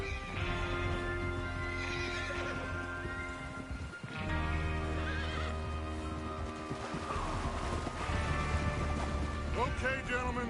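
Horses in the Western video game Red Dead Redemption 2 whinny and snort close by, with clip-clopping hooves and creaking tack under a busy outdoor mix as a group gets ready to ride out.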